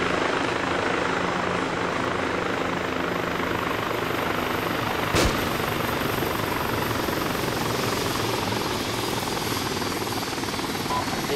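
A Chinook helicopter in the military video game Arma 2 drones with a continuous, loud rotor and engine roar throughout, steady and unbroken with one brief sharp click.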